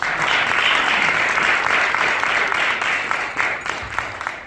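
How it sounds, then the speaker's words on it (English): A crowd at a public library event honoring a former congressman claps together, dense continuous applause that stays loud and even before tapering slightly toward the end. "Please give yourselves a round of applause."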